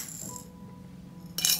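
Peppercorns dropped into clean glass jars, a quick rattling clatter of small hard grains near the end, following a quieter stretch of faint background sound.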